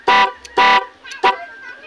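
Three short, loud blasts from a motorcycle's musical horn, a melodic tone sounding close by in an uneven pattern, the last one softer.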